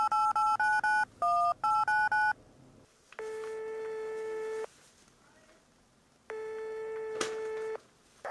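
Touch-tone keys dial a telephone number in a quick run of nine or so beeps, followed by two long ringback tones separated by a pause, close and clear with no speech over them.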